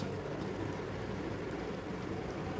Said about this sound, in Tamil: இப்போ நல்லாவே கொதிக்குது